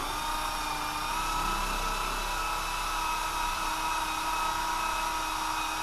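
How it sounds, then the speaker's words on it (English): A constant high-pitched whine of a power buffer running steadily, a polishing machine spinning at even speed with no pauses, buffing paint. "let's go ahead and buff on this"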